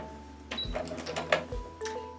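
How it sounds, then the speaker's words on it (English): A sewing machine stitches backward and then forward to lock the stitches on a jelly roll fabric-coil rug, giving two short bursts of whirring needle runs with a brief pause between. "reinforce some stitches here. Sewing backwards a few"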